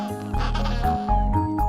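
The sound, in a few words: penguins calling on an Antarctic beach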